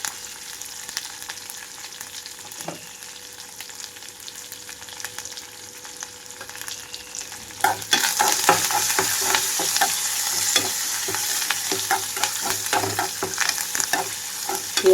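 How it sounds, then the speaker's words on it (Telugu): Crushed garlic, cut dried red chillies and curry leaves frying in hot oil for munagaku pappu, a soft sizzle that suddenly swells into a loud, crackling spatter with faint stirring clinks. "వేగేటప్పుడే ఇందులోకి కొద్దిగా నలుపుకొట్టిన వెల్లుల్లి రెమ్మలు, అలాగే కట్ చేసుకున్న ఎండుమిర్చి కూడా వేసేసాను."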